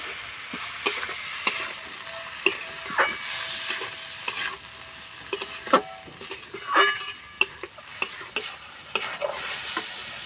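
Soaked rice being stirred and fried with spices in a pan for egg pulao: a soft sizzle under repeated scraping strokes and light clinks of a spoon against the pan, close and irregular, with no speech.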